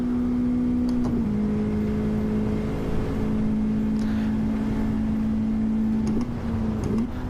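A Toyota race car at Fuji in a racing game: a loud, steady engine drone holds one pitch, then drops to a new note at each gear change.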